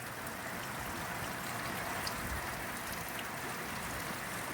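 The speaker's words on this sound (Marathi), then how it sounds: "सगळीकडे असा पाऊस झालाय" Rain falling outdoors over village fields during the first monsoon shower, a soft, steady patter and hiss heard from some distance, quiet and unbroken throughout without voices.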